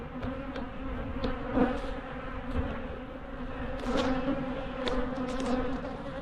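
Agitated honey bees buzz around a group of hives, a dense, continuous droning swarm close by with individual bees zipping past the listener, loud and unbroken throughout.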